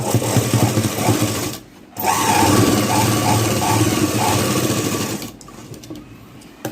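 A sewing machine runs fast and close while stitching tucks on a blouse, two steady bursts of rapid mechanical whirring split by a short pause, then stopping, with no talking.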